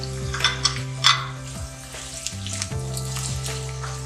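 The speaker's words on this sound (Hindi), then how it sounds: "प्याज थोड़ी सी कच्ची पकी हुई है, इसमें अब हम हरी मिर्चें डालेंगे।" Green chilies fry with partly cooked onions and spices in a pan, giving a continuous close sizzle broken by a few stirring clinks and scrapes, with no speech.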